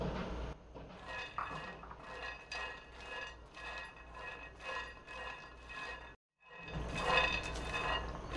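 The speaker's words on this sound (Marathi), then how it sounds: "इथे आधी मी शेंगदाणे थोडे भाजून घेते." Peanuts dry-roasting in a pan over medium gas for Maharashtrian thecha, giving a steady run of light clinks and rattles as the nuts are stirred and tossed, with a brief pause before the rattling resumes.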